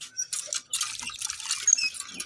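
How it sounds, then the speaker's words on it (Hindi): Water gushing and splashing from a hand pump at a rural chicken farm, a steady wet spray with drips and a few squeaky clanks, close by and moderately loud, with no talking. "इधर नलका चलाओ यार, एक मिनट मुझे हाथ धोने दो।"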